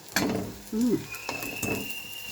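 Maggi noodle fritters fry in a pan with a steady soft sizzle, broken by a few short clatters and a brief low murmur partway through.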